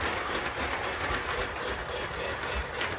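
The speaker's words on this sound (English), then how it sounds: "I'm gonna have to shut the train off here in a second because this is just too loud" A model train rumbles steadily along its track with a continuous rattling clatter, loud and close, with no pauses.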